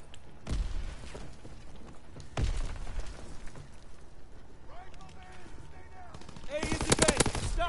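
STG-44 assault rifle fire in a World War II shooter game battle against German tank escorts: two loud isolated shots, then a rapid close burst near the end, with voices and battle noise around.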